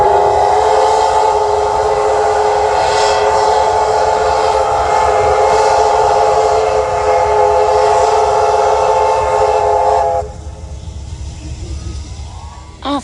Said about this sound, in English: Then, of course, they had a mandatory whistle off.